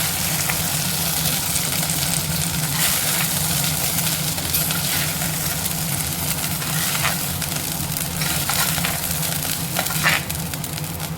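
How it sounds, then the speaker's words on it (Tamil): Okra frying in oil in a pan for sambar makes a steady, loud sizzle that runs throughout, with occasional light stirring scrapes and a low hum underneath, no talking. "எண்ணெயிலே நல்லா வதங்கட்டும்"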